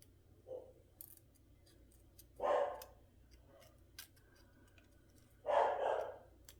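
A pet dog barks indoors in the background, three muffled separate barks spaced apart amid quiet room noise and small clicks.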